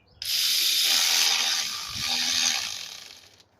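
A ratchet tightens the valve cover bolts on a 2007-2011 Toyota Camry, giving one steady, close, rasping run of fast clicks that lasts about three seconds with no talking.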